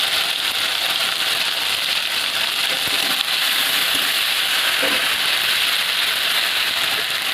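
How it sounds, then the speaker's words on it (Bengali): Ground ginger, cumin and chili paste with turmeric frying in a pan, a dense, even hiss that sounds much like heavy rain, with a few faint clicks and no talking. "এবারে সিলে বেটে নেওয়া আদা জিরে লঙ্কাটা দিয়ে দেবো, স্বাদ মতো হলুদ দেবো"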